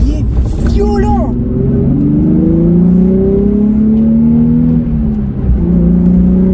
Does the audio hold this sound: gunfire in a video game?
no